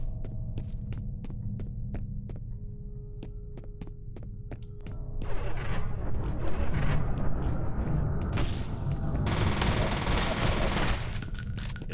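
Gunfire in the horror shooter F.E.A.R., first sharp shots spaced over a low droning hum, then denser bursts of rapid fire with crashing impacts, close and loud.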